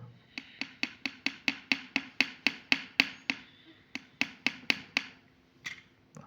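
Light hammer taps on a stiff part of a household gas pressure compressor: a quick run of about fourteen sharp, evenly spaced metallic knocks, a short pause, then four more and one last tap, close and clear with no talk.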